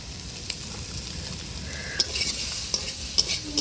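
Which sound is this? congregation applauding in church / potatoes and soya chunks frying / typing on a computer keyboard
potatoes and soya chunks frying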